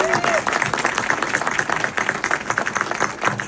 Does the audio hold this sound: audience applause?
yes